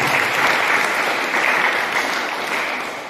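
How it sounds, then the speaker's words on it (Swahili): A church congregation claps together in a sustained burst of dense, even applause, loud and close, with no speech over it. "Chapie Bwana makofi mazuri."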